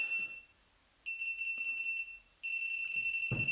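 Shrill electronic beeps from a Classic Army X9 Nemesis airsoft SMG ring out in two bursts separated by a short silence, steady high-pitched tones, close and fairly loud, ending with a soft thump.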